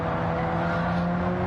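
A race car in Gran Turismo 7 slows for a corner under braking, with a steady, loud engine drone and a faint hint of tyre noise running continuously for the whole moment.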